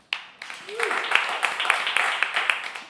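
A small audience claps for a band member from Mississippi at a live radio session. The applause starts abruptly and holds as scattered, moderately quiet hand claps, with a faint voice underneath.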